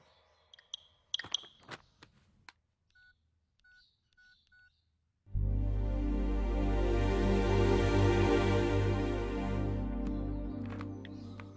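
A mobile phone keypad beeps as messages are typed: quick clustered taps, then four evenly spaced short tones, before a loud, sustained rushing noise abruptly takes over and fills the rest.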